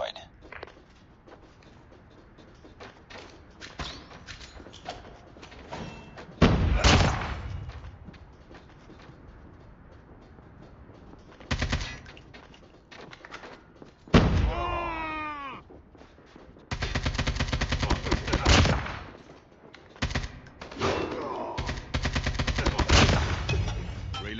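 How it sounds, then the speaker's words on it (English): A deployed sentry gun fires at zombies in a video game, delivering repeated bursts of rapid gunfire separated by pauses, loud and close, with a cat-like whining sweep and game voices in between. "Contact with enemy. Sentry gun deployed."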